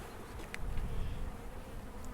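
Honeybees hum continuously in an open hive during a disease inspection, a soft close drone of many wings with no talking.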